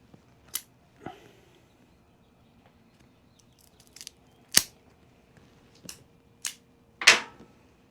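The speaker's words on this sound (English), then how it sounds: "Gonna go ahead and cut this open." A cigar being cut open with a cutter, heard as several sharp, isolated snips and clicks spaced a second or so apart, close up with no talking.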